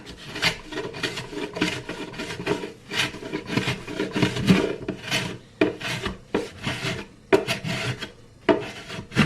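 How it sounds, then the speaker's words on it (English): A hand plane shaving wooden binding flush beside a koa guitar top, loud close rasping strokes repeated in an uneven rhythm, each a scraping swipe of a few tenths of a second. "So we're just going to plane this down a little bit."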